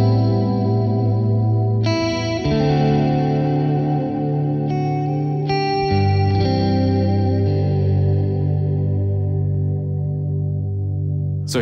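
Sustained electric guitar chords shift slowly through a Fender Dual Marine Layer reverb pedal, bathed in lush, shimmering reverb and chorus, each chord blooming and lingering before the next.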